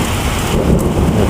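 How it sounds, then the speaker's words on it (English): An electrical storm rumbles with low, steady thunder over heavy rain drumming on surfaces, a loud, unbroken wash of noise with no voices. "So yeah, there's some lightning."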